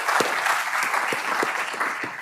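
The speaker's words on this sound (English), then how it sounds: "I'll get everyone to give a round of applause to our panellists." Steady applause from a conference audience for a panel on digital assets, sustained, dense clapping at moderate distance with a few sharper individual claps standing out.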